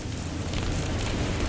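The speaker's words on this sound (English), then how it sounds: "That's thousands of yellow jackets in the ceiling." Thousands of yellow jackets buzz inside a house ceiling, making a steady, dense, hissing drone that resembles rain, with low rumble and no talk.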